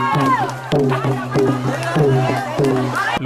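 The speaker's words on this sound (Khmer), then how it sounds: "ប្រជាជនរាប់រយនាក់បានស្រែកទ្រហោស្វាគមន៍អបអរសាទរចំពោះការដោះលែងលោក" A crowd of hundreds shouting and cheering in welcome as a man is released from prison in Cambodia, a loud, continuous mass of overlapping voices with repeated rising surges of yelling.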